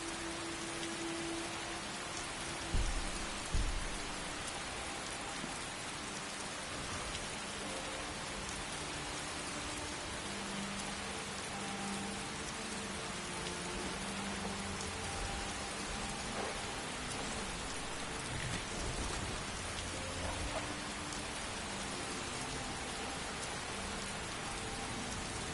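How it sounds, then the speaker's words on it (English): Steady rain falls in the video game Skyrim, a dense, even hiss of drops that runs unbroken throughout, with faint low thuds early on and no voices. "I'm not going to fully turn the sound of the rain off because it does kind of set a nice mood to it."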